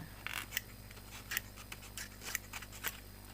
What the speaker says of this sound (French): je vais couper le papier.